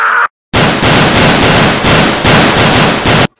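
Rapid bursts of gunfire from a zombie-shooting scene in a Nazi zombies fan film, loud and close, firing in several quick volleys after a brief silence, with no talk over it.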